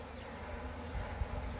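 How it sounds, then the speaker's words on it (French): Honeybees fanning their wings inside a hive on a hot day make a dense, steady buzzing drone, close and continuous, with no one speaking. "Elles se mettent à battre des ailes, donc justement parce qu'elles ont chaud."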